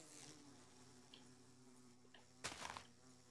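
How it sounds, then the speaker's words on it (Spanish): A steady insect-like buzz of bees in the Minecraft video game drones faintly throughout, with a brief louder burst of game noise near the end. "Estos son las abejas."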